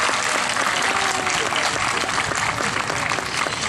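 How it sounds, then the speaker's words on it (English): Audience at an eighth-grade promotion ceremony applauding, a dense continuous clapping from a full crowd, loud and close, steady from start to finish. "Give him another big round of applause."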